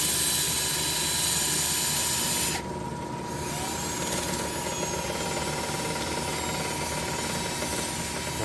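A steady high-pitched whir of a drill with a sandpaper pad sanding runs continuously, briefly dipping in pitch partway through, then carries on droning close by.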